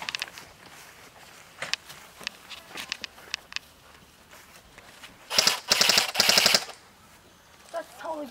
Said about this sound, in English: Use that LMG, man.